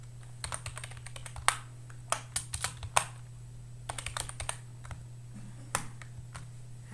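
Keys clatter on a computer keyboard in irregular bursts of clicks with pauses between them, close and fairly quiet over a steady low hum, with no talking.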